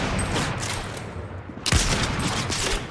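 A single sharp sniper rifle shot in a video game cuts through steady background noise midway, followed by a noisy echoing tail.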